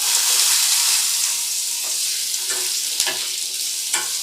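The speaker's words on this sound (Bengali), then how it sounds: "আলুটাকে আমি এপিট ওপিট করে একটু ভালো করে লাল করে ভেজে নেব।" Diced potato fries with cumin in a hot pan, giving a steady bright sizzle with a few sharp stirring clicks near the end, close and fairly loud, with no one talking.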